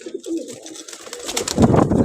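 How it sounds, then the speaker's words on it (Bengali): Pigeons coo in soft, throaty bursts close by, a few low rolling calls overlapping with light rustling and shuffling around them. "আরেকটি কবুতর"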